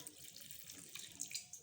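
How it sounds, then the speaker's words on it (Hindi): Water poured into a radish paratha dough mixture of chopped garlic and chilli, a steady, close splashing trickle with slight swells, no talking. "अब इसमें हमने पानी डाल दिया"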